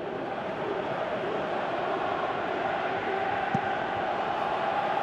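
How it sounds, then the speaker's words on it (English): A constant roar of a video game stadium crowd in a football match (PES 2018), a broad steady murmur with a faint sharp knock partway through. "you can hear how the crowd are reacting to this too"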